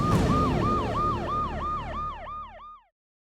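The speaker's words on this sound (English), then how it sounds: "Instead of wedding bells ringing, police sirens were heard." A police siren wails in quick repeated up-and-down sweeps, loud and close, then cuts off abruptly.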